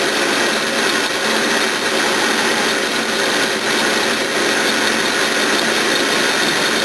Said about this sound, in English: You got to cut this with carbide.